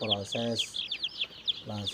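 Chickens cluck and squawk while crowded into a basket during vaccination, with bursts of hen calls and rasping squawks coming close and fairly loud, a few overlapping, with short pauses between.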